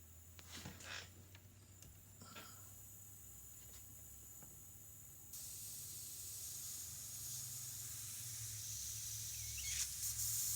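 A PointZero airbrush with its MAC valve opened sprays a steady, bright hiss of air that starts partway through and holds, after some faint clicks and fiddling.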